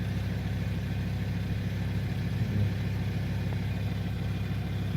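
A VW Touareg 2.5 TDI diesel engine idles steadily and close by, a continuous low rumble running throughout with no clear separate knock standing out.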